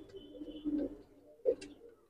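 Pigeons coo in a loft of Madrasi pigeons, with two soft, throaty coos standing out against a low, steady murmur of birds.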